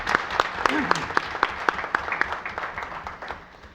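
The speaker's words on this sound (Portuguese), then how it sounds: "Queria pedir um aplauso para a nossa querida Geraldina." Audience applause at a solemn session for National Diabetes Day, a moderate patter of scattered claps running steadily for a few seconds in a hall, with a voice briefly audible beneath.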